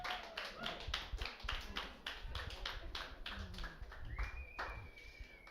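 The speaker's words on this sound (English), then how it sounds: "I want you to give a very special round of applause for Julia" Comedy club audience applauding a comedian at a weekly comedy festival: a scattered round of hand claps, fairly faint and distant, irregular rather than a full roar, with a voice briefly over it.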